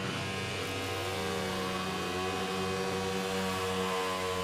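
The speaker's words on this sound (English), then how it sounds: "That is the sound of the Scars Racing Ducati being burned out in the middle of the winners'" A Ducati racing motorcycle doing a burnout at the Isle of Man TT runs continuously at high revs, a steady drone with a wavering pitch partway through, loud and unbroken throughout.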